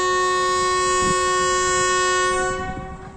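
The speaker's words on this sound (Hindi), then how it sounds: "ये HBU 20 की फ़ाइनल डिपार्चर विसल।" The Hazara Express locomotive sounds its final departure whistle at Rawalpindi, a loud, sustained multi-tone horn blast held steady for nearly three seconds before cutting off and fading, with no voices.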